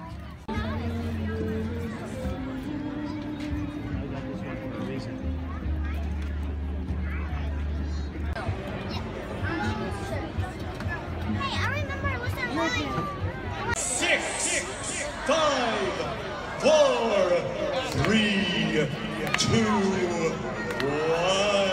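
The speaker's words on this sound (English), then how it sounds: "Whoa, look at that crowd." A large crowd milling at a Halloween symphony event, a dense babble of many voices with scattered calls and occasional cheers, close voices of nearby people talking over it.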